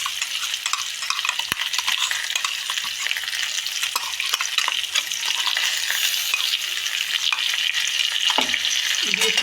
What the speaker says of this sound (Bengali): মা এটা কষিয়ে নিচ্ছে ভালো করে